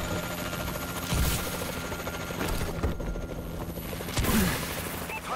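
Enemy Warbird aircraft roaring overhead in the Call of Duty Advanced Warfare Domination mode, a loud continuous engine drone with bursts of gunfire mixed in.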